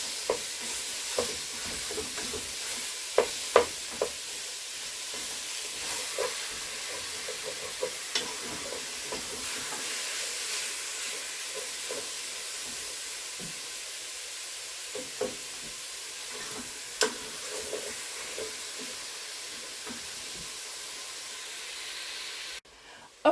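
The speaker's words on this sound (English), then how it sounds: "The onions will continue to cook and caramelize as the beef cooks." Onions and ground beef sizzle in a pan while cooking chili, a steady soft frying hiss broken by frequent spatula stirs and taps against the pan, with no voices over it.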